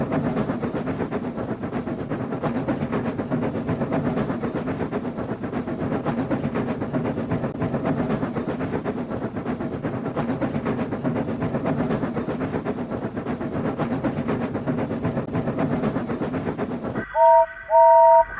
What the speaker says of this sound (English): they heard the sound of the nameless engine's whistle, blaring in the distance